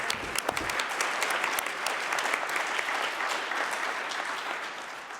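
Steady applause from a large audience, dense clapping that stays loud for several seconds and then eases slightly toward the end.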